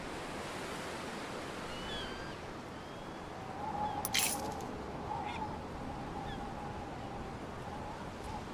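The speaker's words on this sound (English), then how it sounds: "Through the waves." Ocean waves wash steadily in Anno 117, a soft continuous surf hiss with a brief brighter splash partway through and faint bird-like honks in the background.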